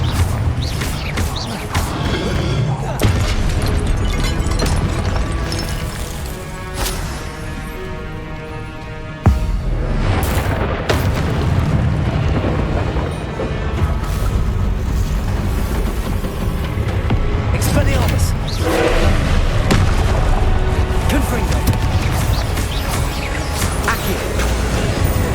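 Confringo fire spells explode in rapid succession during Hogwarts Legacy combat, loud crashing blasts layered over dense game noise, with voices shouting spell names throughout.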